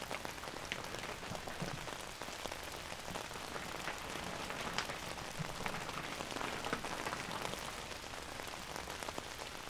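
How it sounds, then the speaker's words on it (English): Rain pattering on an umbrella held over a microphone, a close, steady crackle of countless small drops with slightly sharper taps scattered through it. "I love the sound of rain."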